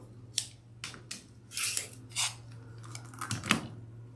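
Scissors snip through fabric while trimming appliqué for a pincushion, a series of close, crisp cuts in irregular bursts over a low steady hum.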